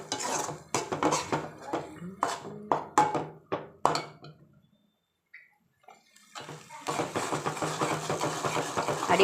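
Ground ridge gourd paste being sautéed in a pan: a spoon scrapes and clatters against the metal in quick, uneven strokes, pauses briefly, then resumes with a steadier stirring noise.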